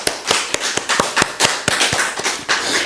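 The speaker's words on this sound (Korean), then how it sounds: "우리 감사와 영광의 박수를 올려드리겠습니다" Congregation in a Sunday church service clapping, sharp close claps in an irregular rhythm, about a dozen distinct strikes over a few seconds.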